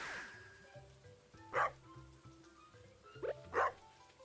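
Dog barks from a bark trap in the farming game Stardew Valley: three short bursts, one alone and then a quick pair, standing out over quiet background game music.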